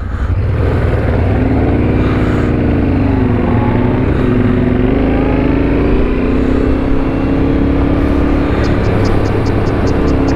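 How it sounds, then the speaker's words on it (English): A Honda Transalp motorcycle engine drones steadily and loudly while riding, with wind rush and a shifting engine tone as it holds speed, no speech. "Morten from Denmark is riding a Transalp"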